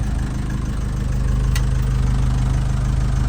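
A Ford Transit MK1 van engine idles roughly after a fuel system overhaul, a close, loud, steady low throb with uneven pulsing and a single short sharp click midway.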